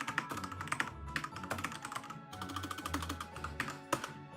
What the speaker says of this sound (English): Hear me typing away there like mad.